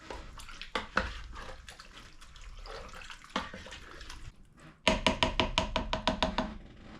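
A spoon stirs a big pot of vegetable soup with canned diced tomatoes, giving wet sloshing and scraping against the pot, then a rhythmic run of quick clanks near the microphone, no talk.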